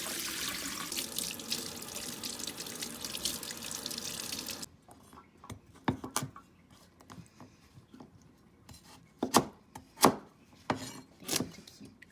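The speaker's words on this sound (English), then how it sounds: "I'm cutting the buttercup squash into little cubes." Running tap water rushes into a sink, then stops, giving way to a knife chopping buttercup squash into cubes on a board, a few irregular close thuds and clicks.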